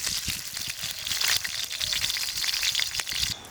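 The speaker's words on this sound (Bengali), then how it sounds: "দিয়ে আমি যে কেটে রেখেছিলাম আলুগুলো সেগুলো দিয়ে আমি এগুলোকে ভালো করে লাল লাল করে ভেজে নেব" Potatoes fry in mustard oil in a pan, giving a steady, dense sizzle with crackling pops that runs the whole time, close and fairly loud, with no voices.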